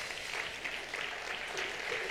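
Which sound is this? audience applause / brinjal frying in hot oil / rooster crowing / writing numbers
audience applause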